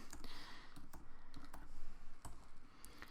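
Steady, close typing on a computer keyboard, with a continuous patter of keystrokes and a few sharper taps standing out, no voices heard.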